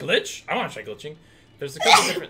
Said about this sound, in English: Wow, explosive sneeze.